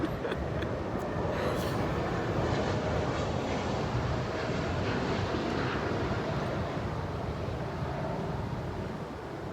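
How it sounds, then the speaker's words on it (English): Airplane passing overhead, a loud, steady broadband roar that fills the whole stretch and fades slightly at the end, with no talking over it. "One moment for the plane."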